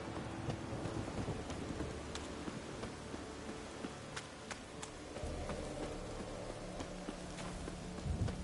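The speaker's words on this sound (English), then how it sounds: "Storm, damn it." Steady rain pours across a stormy scene in The Witcher 3 while sharp thunder cracks and rumbles break through several times, the downpour staying loud and constant throughout.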